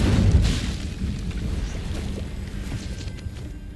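The Incendio fire spell cast in Hogwarts Legacy, a loud whooshing burst of flame at the start that fades into a lingering low crackling rumble.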